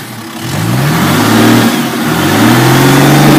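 A car engine on an off-road rally stage revs loud and close, its pitch climbing, easing as the throttle is released, then climbing again in a continuous roar.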